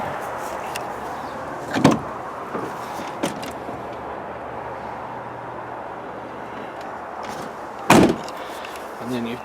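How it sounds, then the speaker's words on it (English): A side door on a high-top camper van opens with a couple of sharp clunks and latch knocks, over a steady low engine idle and background talk. "you've got your two side doors here that open"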